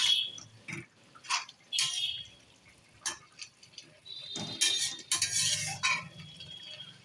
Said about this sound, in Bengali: এখন ভালো করে নাড়িয়ে চাড়িয়ে দেব।